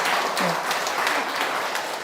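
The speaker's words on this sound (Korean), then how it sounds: "우리 박수 좀 두 분께 청해 주세요" Audience applauding two speakers at a live health humanities forum in a lecture hall, a steady wash of clapping from many hands filling the whole stretch at an even level.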